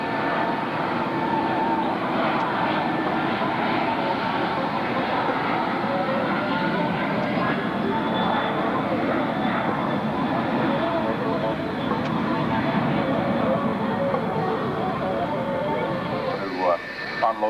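An airliner banks and turns during a flying display at the 1995 London International Airshow, giving a steady, distant engine roar and rushing noise. An announcer talks over it.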